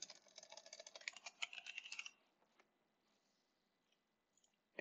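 Rapid typing on a computer keyboard clatters close and quiet for about two seconds, a brisk run of key clicks, then near silence with a few stray taps and a final bump.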